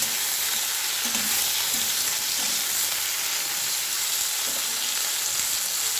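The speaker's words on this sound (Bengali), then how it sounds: "এবার শিমগুলোকে" Halved flat beans fry in a wok (kadai) with a steady, close sizzle that holds evenly throughout, with faint stirring underneath and no talking.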